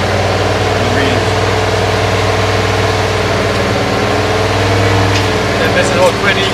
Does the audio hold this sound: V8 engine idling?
yes